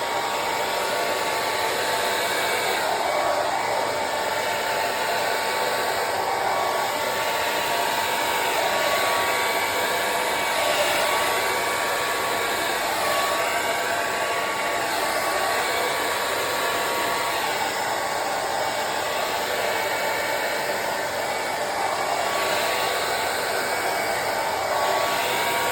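A hair dryer blows steadily and loudly across an acrylic paint pour on canvas, a continuous close whooshing hum that never lets up, with no voices over it.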